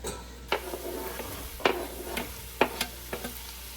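Celery and other vegetables being stirred in a pot of chicken gnocchi soup, with a faint steady sizzle under the stirring and a few sharp scrapes and knocks of the spoon against the pot, spaced about a second apart.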